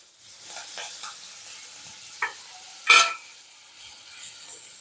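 Ginger and green chillies fry in a pan for ragi kichdi, a soft steady sizzle broken by a couple of sharp stirring scrapes and clinks, with no talk.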